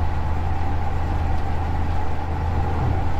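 A 1977 Chevy C10 pickup truck engine with Fitech EFI idles with a steady low rumble, close and continuous, with no talking.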